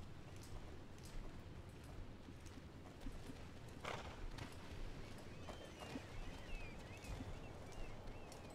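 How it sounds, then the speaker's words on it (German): In the Star Stable video game, a heavily loaded horse walks slowly, its hooves clip-clopping in a steady, unhurried rhythm over a dense ambient background of game music and environment sounds. "Dein Pferd ist schwer beladen, dass es sich jetzt langsamer bewegt"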